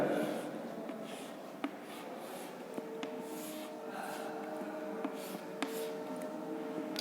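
A marker or chalk draws a cap shape on a board during a mathematics lesson on multiplying money, with soft scratchy strokes and several sharp taps at intervals, fairly close and without talk.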